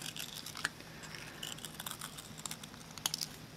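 Scissors cutting a paper leaf shape: quiet, close snipping and light paper rustle, with a couple of slightly crisper snips standing out against a soft background.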